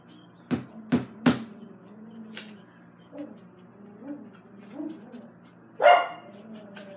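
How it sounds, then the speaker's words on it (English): A dog in a home kitchen gives three sharp, loud barks in quick succession near the start, followed by softer whines and low vocal sounds, then another louder yelp-like bark toward the end. "Oh my gosh, my dog."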